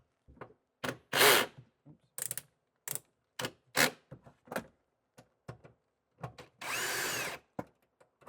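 An 8mm socket on a ratchet works a bolt loose on a Ford Bronco during an amplifier install. Quick close bursts of clicking ratchet strokes come in uneven groups with short pauses, ending in a longer buzzing run, and no one speaks.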